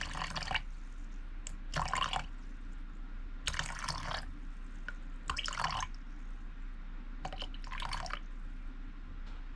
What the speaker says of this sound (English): I'm going to add 150 grams of warm water, just because this was cold.